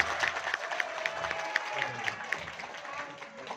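Applause from an audience at a community meeting between a Riau Islands regional legislator and a Batam tourism awareness group, steady clapping over about four seconds with voices talking over it.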